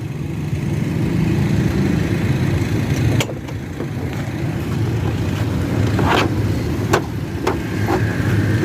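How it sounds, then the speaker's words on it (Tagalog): Road traffic with cars and motorcycles passes close by as a loud, continuous engine rumble, with rising revs and a few sharp passing swells and no talking. "Traffic kayo ron."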